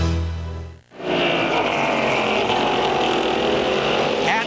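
Trans Am race cars roar past at Mid-Ohio in a 1993 race broadcast: a loud, sustained engine howl rises after a brief dip and holds steady, with a faint rising whine near the end.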